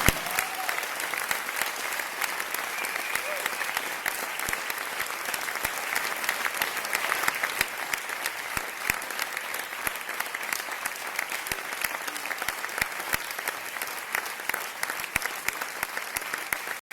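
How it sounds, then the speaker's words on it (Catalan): Loud, sustained applause from a large crowd, dense clapping that continues evenly throughout with no pause. "demano un fort aplaudiment per ells"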